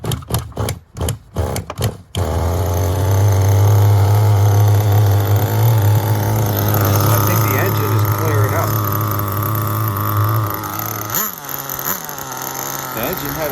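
Cold night run of an HPI RS4 nitro RC car: a few sharp pull-start bursts, then the small engine catches into a loud, buzzing high-pitched idle that wavers and revs before cutting off, with brief talk near the end.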